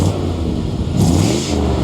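A 1957 Chevy Bel Air on new Cragar wheels rumbles past with a deep exhaust note, the engine swelling briefly as the car accelerates by at close range.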